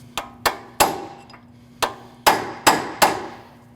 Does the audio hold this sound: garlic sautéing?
no